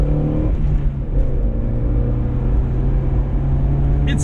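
A 1995 Geo Tracker pulls onto the highway, its engine droning loudly and steadily up through the gears in a constant, close cabin-level hum, with no talk over it.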